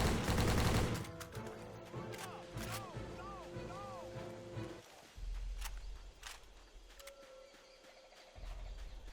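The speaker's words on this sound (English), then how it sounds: "I'm going to clean up the remaining enemies with my gun" Video game gunfire cracks in a quick cluster of shots, with more scattered reports amid footsteps and ambient game sounds, loud and close at first, then thinning out.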